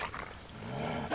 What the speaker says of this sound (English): Great, now that dog is gonna come out at us.